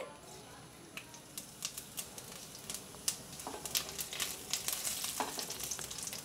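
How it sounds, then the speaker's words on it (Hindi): Mustard seeds and cumin crackling in hot oil in a home kitchen, a soft sizzle peppered with rapid, irregular sharp pops that grow busier over time. "इसमें थोड़ी सी हम राई के दाने डालेंगे और इसे अच्छे से तड़कने देंगे"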